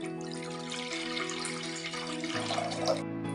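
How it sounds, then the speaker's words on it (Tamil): Water runs steadily from a tap into a cooking pan for boiling quail eggs, a soft close trickling stream over a faint background hum, with no talk. "அதுக்காக ஒரு சட்டியை வச்சு தண்ணி ஊற்றி நம்ம வந்து முட்டையை வேக போட்டுக்கலாம்"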